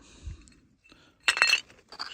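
Shards of broken glass bottles and old dishes dug from a search site clink together in one bright burst after a faint low thud, then a few lighter scattered clinks.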